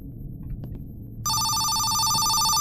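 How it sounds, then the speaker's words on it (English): A telephone in a horror video game suddenly starts ringing with a loud, continuous electronic bell tone after a quiet stretch of faint background noise. "Oh, damn it, this damn phone again."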